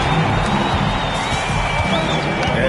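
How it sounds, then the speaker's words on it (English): A basketball crowd cheering and clapping after a clutch layup, a dense roar of voices and applause that holds steady throughout, with a commentator's voice over it. "And you could tell by the reaction there, the crowd loved it."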